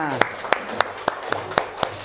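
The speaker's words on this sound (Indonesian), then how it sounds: "Kasih tepuk tangan untuk Diandranya" Scattered hand claps ring out in a loose, uneven rhythm, a small group of students applauding briefly in an Islamic religious education lesson over a steady low hum.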